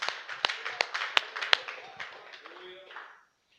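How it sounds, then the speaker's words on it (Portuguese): Church congregation claps in praise, a few sharp, distinct claps over a short spell of lighter scattered clapping that dies away into silence. "Uma salva de palmas ao Espírito Santo"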